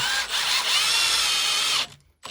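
A drill drives a long screw into the arm of a recycled poly ski and board rack, making one close, loud, steady whirring burst that stops abruptly.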